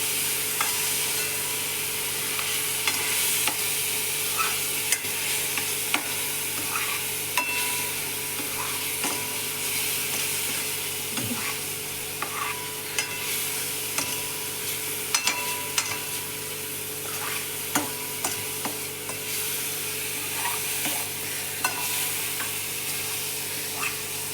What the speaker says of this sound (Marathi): आता ही पेस्ट आपण चांगली लाल होईपर्यंत आपल्याला परतून घ्यायची आहे